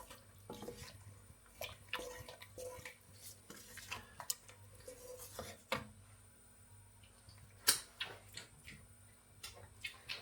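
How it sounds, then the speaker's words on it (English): Passata being stirred into a tomato and basil soup as it comes back to the boil: a spoon clinks and scrapes against the pot in quiet, irregular taps with soft liquid sloshing, no talking. "Give that a stir."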